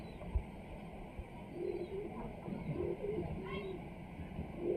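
Pigeons on a house rooftop give soft, low cooing phrases that repeat under a steady background hum, with a couple of brief knocks near the start.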